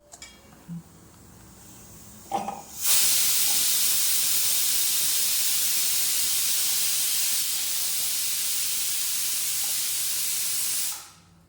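A pressure cooker cooking tapioca lets out a loud, steady jet of steam hiss that starts abruptly, holds for about eight seconds and then cuts off, following a few faint kitchen clatters.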